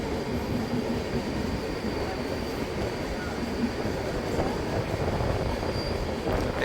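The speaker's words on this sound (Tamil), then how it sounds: "ட்ரெயின் அப்படியே டேன் ஆகி போகிறது." A train rounds a curve on the railway track with a continuous rumble of wheels on rails and faint metallic squeal, steady and fairly close for the whole stretch.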